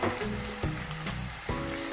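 Sliced tomatoes going into softened onions in a hot pan: a steady, close sizzle with a few thumps and bursts of frying.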